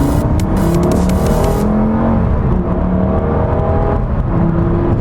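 A Lamborghini supercar engine roars loud and steady throughout, with a rising, revving character as the car accelerates hard.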